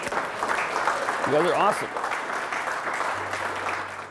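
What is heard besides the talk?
veterans' round of applause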